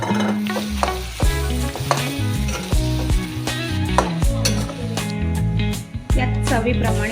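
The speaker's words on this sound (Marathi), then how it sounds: "मी हे बटाटे सोलून मॅश करून घेतलेले आहेत, तुम्ही बघू शकताय या प्रकारे, आणि मग ते या फोडणीमध्ये टाकू शकता" Peeled, mashed potatoes for vada pav are stirred into a hot tempering, giving a loud sizzle broken by repeated scraping and knocking strokes of a spoon against the pan.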